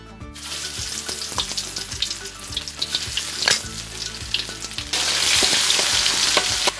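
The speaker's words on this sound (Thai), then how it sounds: "น้ำมัน ผัดกับพริกแกงเหรอยายจ้ใส่อะไรก่อนยายพริกแกงก่อน" Thai curry paste is stir-fried in oil, giving a loud, close, crackling sizzle with stirring scrapes over a faint tonal background, the hiss growing brighter and fuller partway through.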